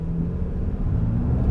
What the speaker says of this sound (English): I'm gonna just hit the accelerator really quick